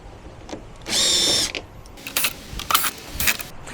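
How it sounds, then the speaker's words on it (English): A power drill backs screws out of the housing of a 24V DC 10,000 BTU low-profile rooftop air conditioner. There is one short whirring burst, then brief spins and metallic clicks and rattles, heard close with no speech. "Let's go ahead and pull these screws out and get this open"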